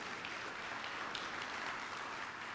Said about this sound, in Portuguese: Dá um aplauso para Ele, em nome de Jesus.